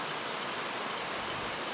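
Igpasungaw Falls pouring steadily into a shaded swimming pool, a broad, unbroken rush of water heard close and even throughout.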